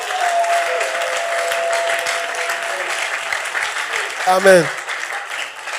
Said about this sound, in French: Acclamez le Seigneur pour elle.